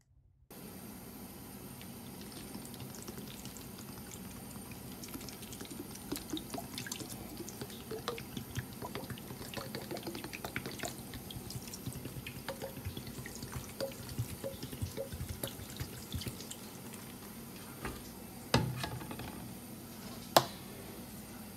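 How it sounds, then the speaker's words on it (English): Developing solution trickles and drips steadily over a palladium print in a tray, a soft continuous wet patter with a few brighter splashes near the end, no voices. "So let's take one more look at the pouring action going over this print."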